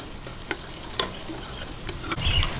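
Garlic sizzling and frying in butter in a pan, a steady close crackle with a few brief stirring clicks and scrapes, no talking.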